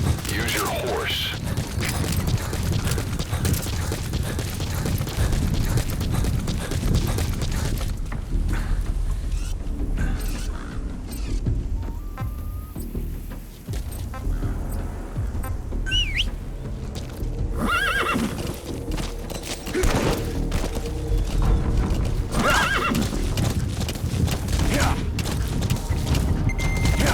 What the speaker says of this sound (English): Use your horse.